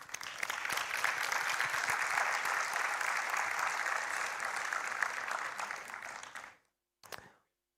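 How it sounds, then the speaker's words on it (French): A conference audience claps loudly and steadily for about six seconds, then the applause stops abruptly and a brief final burst follows. "Je vous propose qu'on les remercie et qu'on les applaudisse."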